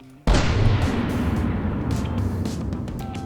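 A single thunderous blast from 16-inch triple heavy main turrets on a replica Iowa battleship in the game From the Depths, erupting loud and close after brief quiet and then rumbling on as a long, fading roar.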